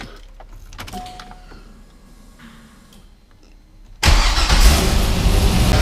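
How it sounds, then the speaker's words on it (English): After a few soft clicks and a faint electric whine, a C5 Corvette engine cranks and fires abruptly, then settles into a loud, close idle for the final seconds. "We'll go ahead and start this thing up"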